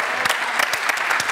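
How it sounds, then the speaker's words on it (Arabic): A short burst of studio audience applause for a performer on a TV show, dense steady clapping with a few sharper claps standing out. "تصفيق اقوى منك على سلايم"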